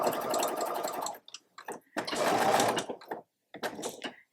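A sewing machine stitching denim jeans during an alteration, running in two bursts of steady mechanical whirring with a short pause between and a brief third run near the end.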